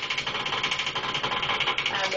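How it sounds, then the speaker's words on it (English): Rattling ceiling fan running in a rented home, a steady dense mechanical buzz with a rapid rhythmic pulsing rattle, fairly close and continuous throughout. "is the ceiling fan. It sounds like this every morning when the light switch comes on."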